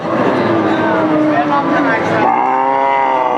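Thin, bony cattle at a busy livestock market in Chaugachha, Jessore, lowing loudly and near amid constant crowd chatter and voices.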